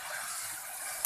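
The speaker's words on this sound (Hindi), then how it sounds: "जब तक गोभी थोड़ी थोड़ी सुर्खी ना रही होती है, हम तब तक उसको फ्राई करते रहेंगे।" Cauliflower frying in a pan while being cooked for an aloo-gobhi curry, giving a steady, hissing sizzle close by that stays even throughout and ends in a brief clatter.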